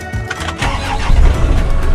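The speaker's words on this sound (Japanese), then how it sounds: "エンジンかけます。" A bus engine starting: the starter cranks briefly, then the engine catches and settles into a loud, low, steady rumble close by, with no talking.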